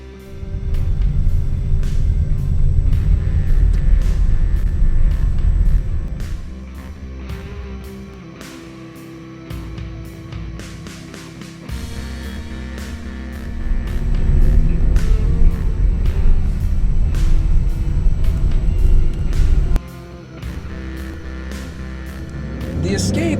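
A 2013 Ford Escape SE 4WD with the 2.0L EcoBoost turbo engine drives along a snowy road near Big Bear, giving a steady low engine and road rumble that eases off briefly midway before building again.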